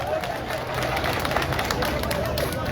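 A church congregation claps along, rapid overlapping hand claps in a steady rhythm mixed with voices and murmuring throughout, moderately loud and close.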